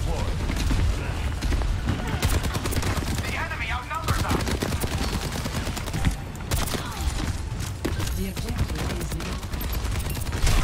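Rapid gunfire in an Overwatch 2 match, with dense, repeated close shots and impacts that continue almost without a break throughout.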